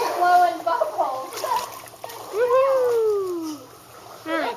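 Children play in a backyard swimming pool, splashing the water and blowing bubbles, with wet splashes and bubbly gurgles close by under excited children's voices and adult talk throughout.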